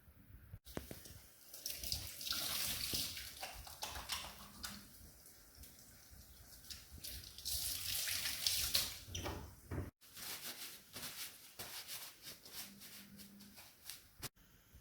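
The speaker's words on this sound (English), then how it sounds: "Roll up long sleeves and wash hands." Hands are washed under a running kitchen tap before cooking, with a steady close rush of water and shifting splashes as the hands move through the stream, running continuously with a brief break near the end.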